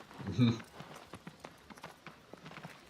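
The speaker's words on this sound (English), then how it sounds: "you're riding the horse" Horse hooves clip-clop in a steady trotting rhythm during a ride in the video game Shadow of the Colossus, fairly faint and continuous under people talking.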